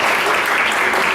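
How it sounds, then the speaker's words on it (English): Loud close audience applause for a student internship panel, a thick continuous roar of clapping filling the short span without a break. "Give them a big round of applause."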